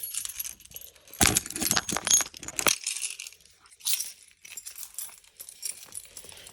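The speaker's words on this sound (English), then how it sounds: "take both of these keys with me" A bunch of keys jangles loudly for a couple of seconds during a move-in property inspection, followed by fainter metallic clinks and rustling, with no talking.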